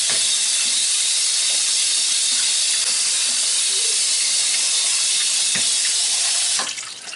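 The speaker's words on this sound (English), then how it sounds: "We're going to rinse these off real quick." Strawberries rinsed under a strong, steady stream of running tap water, a loud continuous hiss and splash that holds evenly for several seconds before easing slightly at the end.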